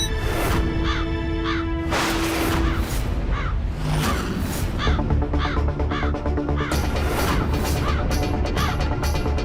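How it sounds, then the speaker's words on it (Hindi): Repeated crow caws inside a house, loud and close, mixed with dense background music and clatter throughout. "ये तो कौवे की आवाज लग रही है।"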